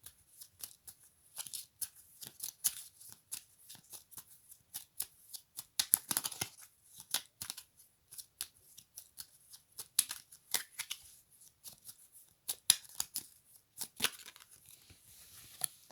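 Tarot cards being shuffled by hand, repeated crisp riffling and snapping bursts in an irregular rhythm, close up in a quiet room.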